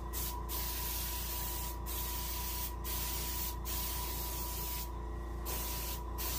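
Base coat sealer spraying onto an Arctic char taxidermy fish in steady close bursts, several short breaks between long hissing passes, loud and continuous with no talk.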